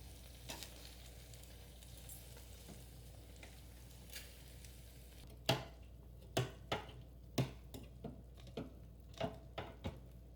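Bacon-wrapped brat bites are turned over one by one in an air fryer basket, a quiet sizzle broken by a series of sharp clacks and taps spaced a few tenths of a second apart, with no talk.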